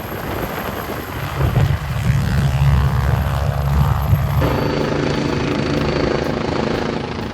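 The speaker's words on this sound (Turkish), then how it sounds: "Augusta Westland AW-109 medikal helikopter" An AgustaWestland AW109 medical helicopter flies close by, its engine and rotors giving a loud, steady roar that keeps going without a break.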